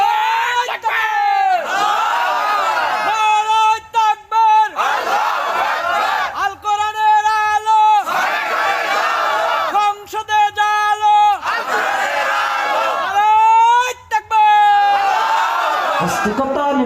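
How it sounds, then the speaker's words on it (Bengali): A large crowd at a religious gathering roars the Nara-e-Takbir chant in loud, repeated call-and-response bursts, each shout of many voices separated by brief pauses. "সবাই উচ্চ কণ্ঠে নারায়ে তাকবীর, লিল্লাহি তাকবীর"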